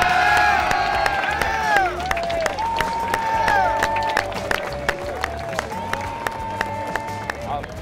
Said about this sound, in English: I want to give a big round of applause for Papa Roy Stevens, all right?